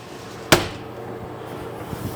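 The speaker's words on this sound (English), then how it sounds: "Head back out, so just close the door like so." Caravan washroom door in a Boss Sorrento 18 caravan pushed shut, a single sharp close thud followed by faint small knocks, in a quiet interior.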